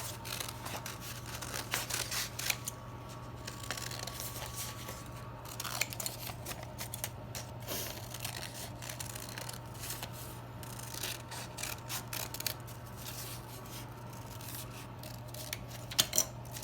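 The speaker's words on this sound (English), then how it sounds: "I'm cutting this out on the line, and then I will open the paper up" Scissors snip through paper, cutting out a tulip petal shape along a drawn line in a first-grade craft. The blades make repeated close, crisp cuts in irregular bursts over a steady low background hum, with no talking.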